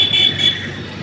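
Road traffic on a route toward Omkareshwar with roadwork nearby, a loud close rush of passing vehicles with engine and tyre noise swelling and fading over a second.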